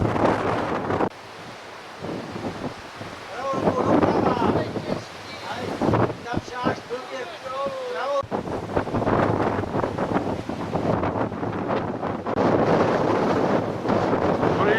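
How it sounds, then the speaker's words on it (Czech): Strong mountain wind in the Sierra Nevada, USA, buffets the microphone in loud gusts, with a brief lull and a few faint high voices or whistling sounds mid-way. "Vítr je teda šílený."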